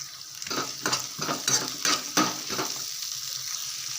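Chopped onions sizzle in a pan while a spoon scrapes and stirs them in a series of irregular clattering strokes, with a steady frying hiss underneath, close by and with no talking.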